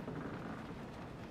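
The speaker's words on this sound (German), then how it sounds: "Das hört sich so an, als würde es wirklich regnen hier." Steady wash of rain ambience in the video game We Happy Few, a soft continuous hiss of falling rain with no distinct drops or voices.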